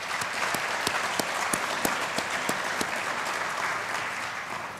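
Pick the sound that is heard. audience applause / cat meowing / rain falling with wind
audience applause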